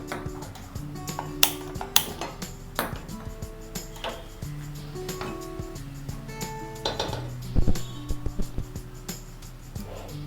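Cocoa beans are heated in a pan on a gas stove and tossed to loosen their skins, giving repeated light clinks, rattles and metallic knocks at close range, with a few louder tapping hits and no talking.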